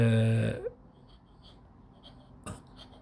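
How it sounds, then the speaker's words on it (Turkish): A Hongdian 525 fountain pen with a fine nib scratches across paper in a few faint, brief strokes after a short vocal sound at the start. "Birazcık sesli bir kalem olduğunu söyleyebilirim fiyatına göre."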